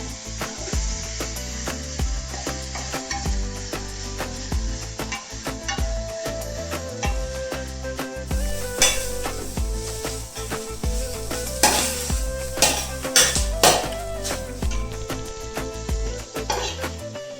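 Onions with salt and asafoetida sautéing in a pan for a Kerala-style chicken curry, a continuous sizzle with repeated stirring scrapes and clatters, close and fairly loud throughout.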